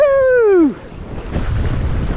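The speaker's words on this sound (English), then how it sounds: "Whoa, look at these waves." Waves and rushing water on a glacial river in Patagonia while kayaking through rapids, a broad close wash of churning water with wind buffeting the mic, following a loud whoop.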